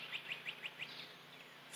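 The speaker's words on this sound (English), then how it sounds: "Only you can hear the birds singing out here." A small bird chirps five quick notes in a row, fairly faint against a soft outdoor hush, then a brief higher call at the end.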